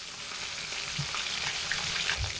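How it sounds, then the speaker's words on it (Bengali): Pond fish fry in hot oil in a pan, giving a continuous close crackling sizzle with faint spatters and a few soft knocks beneath, no talk. "এবার মাছ দুটোকে উল্টে দিচ্ছি, যাতে অপর পিঠটাও খুব ভালোভাবে ভাজা হয়।"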